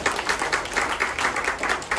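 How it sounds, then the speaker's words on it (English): A small meeting group gives a short round of applause, close and fairly loud, with distinct rhythmic claps from a few people pulsing steadily for about two seconds. "Round of applause."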